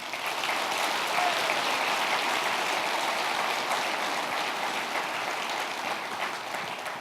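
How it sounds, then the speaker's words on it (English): A large audience at the Grand Conclave 2017 gives a sustained, even round of applause, heard from a distance as a continuous hiss-like patter. "please join me in a round of applause for all your efforts"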